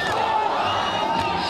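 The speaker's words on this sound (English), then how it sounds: "Crowds gathering in the middle of the night to welcome home their negotiators from Geneva like conquering heroes" Nighttime crowd in Tehran welcoming home nuclear negotiators returning from Geneva, a steady, dense roar of many voices with cheering and shouts, sustained and fairly loud throughout.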